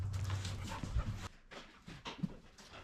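A dog pants and whimpers indoors during a kitchen install in a crawler hauler build, with short breathy bursts and a low whine that fade after the first second.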